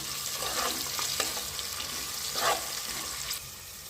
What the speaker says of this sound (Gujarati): શાકને થોડુંક આપણે હલાવતા રહીશું ચોંટી ના જાય